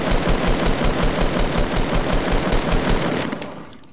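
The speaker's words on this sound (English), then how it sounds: "Is that a minigun?" Minigun fire in the Fortnite video game, a dense rapid rattle of shots sustained for about three seconds, then tailing off, loud and alone.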